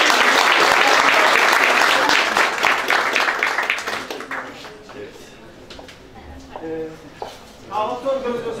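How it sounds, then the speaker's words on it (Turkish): Loud audience applause at a Turkish-language gathering swells at first, then thins and fades away over several seconds as a voice takes over and keeps talking. "alkış hak etti değil mi?"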